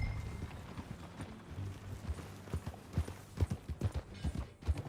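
Horse hooves clip-clopping at a walk in Red Dead Redemption 2, a steady close rhythm of hoofbeats that firms up and grows more distinct in the second half.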